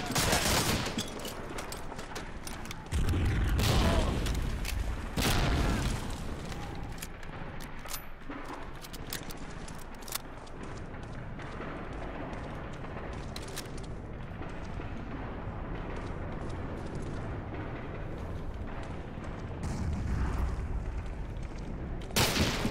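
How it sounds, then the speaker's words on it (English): Dense World War II battle ambience at Normandy in Medal of Honor: Allied Assault: a continuous rattle of rifle and machine-gun fire with heavy booming blasts at intervals, loud throughout. "you can hear, like, all the gunshots and stuff, and just the fact that this is Normandy"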